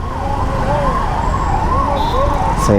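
An ambulance siren wails steadily up and down, loud and close, stuck at a traffic signal, with traffic rumbling underneath and a brief horn-like sound near the end.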